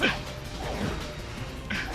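An enemy dog in Sonic the Hedgehog (2006) barks in a couple of sharp game yaps over a dense, noisy game soundtrack.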